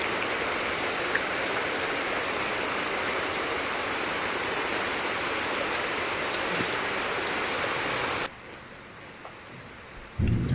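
Heavy storm rain pours down in a dense, loud, continuous wash that cuts off sharply near the end, leaving a quieter background before a brief burst returns.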